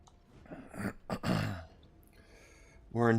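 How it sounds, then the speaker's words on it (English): A man clears his throat with a few rough, gravelly rasps and a short cough-like burst, close to the microphone, before a brief voiced sound at the end. "clear my throat."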